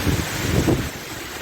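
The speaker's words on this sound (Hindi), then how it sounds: "इतनी तेज़ हवा चल रही है" Strong wind gusts during a heavy rainstorm on a road in Khyber-Pakhtunkhwa, a loud rough buffeting roar that batters the microphone, with no one speaking.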